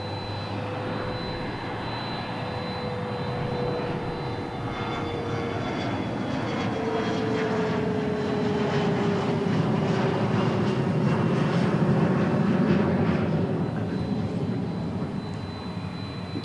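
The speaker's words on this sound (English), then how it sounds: "here goes San Angelo, the CRJ going to San Angelo, Texas." A CRJ regional jet at Dallas/Fort Worth International Airport roars steadily, its engine rumble and whine swelling louder as it passes close, then easing slightly, with no voices heard.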